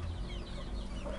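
Bantam and Brahma chickens cluck softly in a backyard coop, faint and a little distant over a low background hum.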